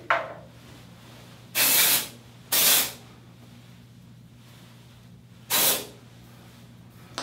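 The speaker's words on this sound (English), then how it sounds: "I've just been using this Tarte dry shampoo" Tarte dry shampoo sprayed onto hair in three short, loud, close hissing bursts, two close together and a third after a pause, with quiet room tone between.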